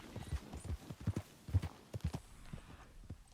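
Hooves of a Perlino Andalusian horse in the Red Dead video game clop in an uneven, quick rhythm, moderately close and fairly quiet.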